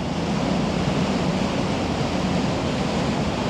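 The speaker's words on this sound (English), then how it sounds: "look how the boat is churning all the water up there" Water churned up by a ferry boat crossing between Manly and Sydney: a steady, loud broadband rush of wake and spray, with wind buffeting the microphone throughout and no voices.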